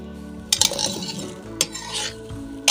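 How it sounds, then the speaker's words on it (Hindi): Shakar para, crisp fried flour sweets, are stirred into hot sugar syrup in a pan with the flame off. Loud scraping, clattering bursts come at about three moments, with softer stirring between them and no talking. "और अच्छी तरह से इन्हें मिक्स करना शुरू कर देते हैं"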